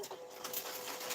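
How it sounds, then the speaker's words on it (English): A sticker printer malfunctioning mid-print gives off a steady whirring, buzzing mechanical drone with faint rattles, close and fairly quiet, and nobody speaks. "apparently my printer is having a minor meltdown"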